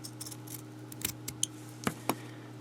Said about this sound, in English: And then I will cut right along the edge